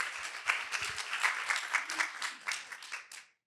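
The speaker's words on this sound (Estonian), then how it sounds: "Ja aplaus julgustades." Audience applause at a green business pitching session, a modest room of people clapping steadily for about three seconds before it stops abruptly.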